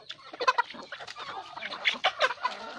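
Chickens clucking in a farmyard flock, including a broody hen, a dense run of short overlapping clucks and chatter close by with no talking.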